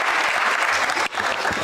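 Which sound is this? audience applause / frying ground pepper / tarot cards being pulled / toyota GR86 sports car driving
audience applause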